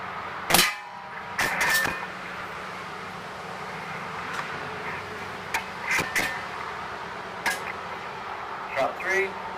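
Xisico XSP180 .22 break barrel spring piston air pistol firing, sharp broadband cracks spaced a few seconds apart over a steady outdoor background, each brief and moderately loud with a faint talking voice between.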